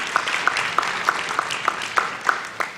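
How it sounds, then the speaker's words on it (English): Sparse, evenly spaced hand claps at a data science symposium poster awards, about nine distinct claps over a soft wash of scattered applause from a small audience, fairly close and moderate in level. "Yeah, let's applaud."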